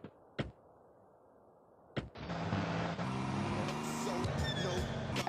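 In GTA San Andreas, a car door knocks shut twice, then an engine starts up and drives off, rumbling steadily in the foreground with some road noise.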